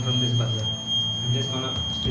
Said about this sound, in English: Here there is a buzzer, we are getting sound from this buzzer.